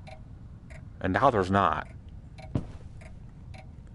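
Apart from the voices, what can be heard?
clock ticking in video game Layers of Fear VR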